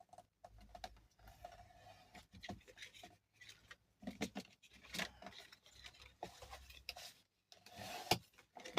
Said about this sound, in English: So let me just burnish all that the other way.